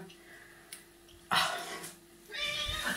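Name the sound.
cat meowing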